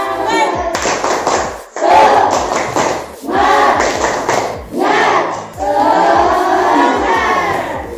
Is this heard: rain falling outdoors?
no